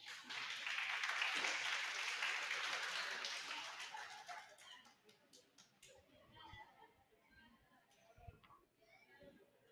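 Audience at a teachers' day ceremony in Ecuador breaking into a burst of clapping that swells quickly, then thins out into scattered claps and murmuring.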